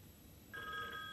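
A telephone bell starts ringing midway, steady and clear but fairly quiet, with a faint background hum underneath.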